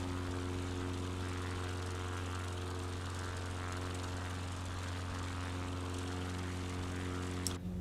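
A propeller plane drones steadily through mountains in a flight simulator, its engine a constant, even hum with a sharp click near the end.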